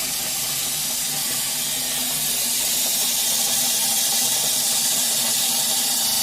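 Water leaks steadily from a malfunctioning domestic water softener, a continuous loud hiss and trickle that holds at one level throughout with no talking.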